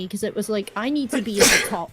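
A single sharp sneeze bursts out near the end, loud and close, right after a stretch of someone talking.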